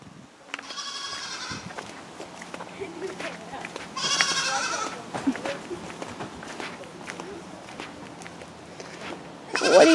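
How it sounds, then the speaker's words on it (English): Goats on a farm bleat at feeding time, with several harmonic calls near the start and around four seconds, amid footsteps, rustling and a person talking. "going down to feed the goats and my donkey, Dash."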